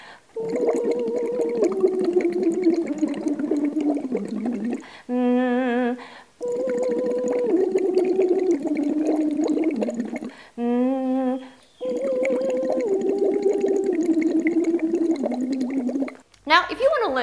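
A singer blows and hums through a straw into water during a vocal warm-up, producing sustained gurgling bubbles with pitched voicing that glides up and down, in three long phrases with short breaks.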